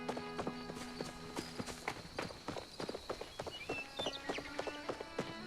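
Hooves of a horse clip-clop in steady rhythm in the video game Palia, clear and close, with soft game music tones layered underneath.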